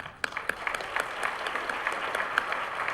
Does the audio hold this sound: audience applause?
yes